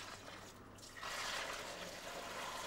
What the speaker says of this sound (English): No, the eggs come liquid form.